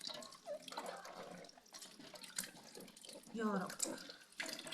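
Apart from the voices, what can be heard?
washing eggplants one by one under running water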